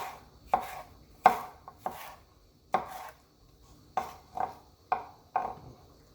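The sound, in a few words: knife dicing peppers on a cutting board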